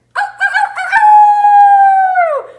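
Young voices imitate a rooster crow together, a drawn-out, wavering cock-a-doodle-doo call that swells and trails off after a couple of seconds.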